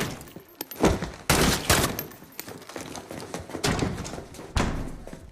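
Bursts of Call of Duty: Modern Warfare gunfire crack out repeatedly, some loud and close, others duller thuds, in uneven volleys with no talking.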